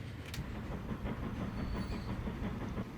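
A train rolls steadily through the video game Transport Fever 2, with a continuous rumbling clickety-clack and soft hiss that stays even throughout, with no talking.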